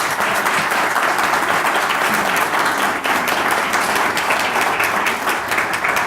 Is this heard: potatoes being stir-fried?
no